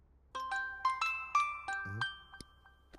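A phone plays a melodic chiming ringtone, a quick sequence of bright bell-like notes that fades out.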